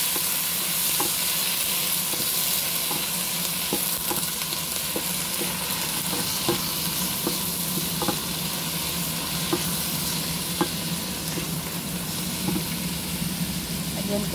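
Shrimp sizzle loudly in a hot pan for ginataang hipon, a constant bright frying hiss broken by regular scraping taps of a utensil stirring the pieces, with faint talk in the background.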